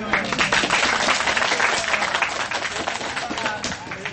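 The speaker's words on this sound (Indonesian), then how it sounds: "Tepuk tangan yang ini." Audience applause and clapping at a cultural gathering, a dense, lively burst close by that holds steady before easing slightly, with voices mixed in.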